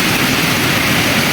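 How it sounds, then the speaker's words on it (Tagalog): Heavy rain pours down near the sea in Samar, a dense, loud, constant hiss with no gaps and no voices. "Tapos biglang umulan, no? Lakas ng ulan."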